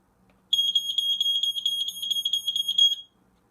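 A Fyrnetics Lifesaver 0908 smoke alarm sounds its test tone: a shrill, rapidly pulsing electronic beep lasting about two and a half seconds, loud and close, over faint background hum.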